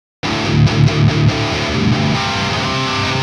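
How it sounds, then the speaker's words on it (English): A lead distortion guitar tone through the Raven Volcanic plugin, starting abruptly with a few loud chugging stabs, then settling into a sustained, ringing distorted chord that slowly fades, alone with no voice. "I prefer definitely the lead distortion"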